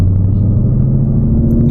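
A Shelby GT500 rolls over a small bump in the road, heard from inside the car as a loud, steady low rumble of engine and road noise with no sharp jolt standing out.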